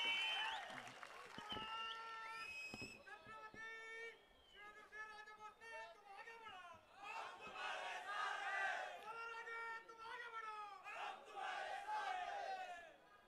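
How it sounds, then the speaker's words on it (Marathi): Loud crowd at a political rally in Maharashtra roaring and shouting slogan-like cheers, with some applause mixed in, sustained and dense throughout. "जोरदार टाळ्या"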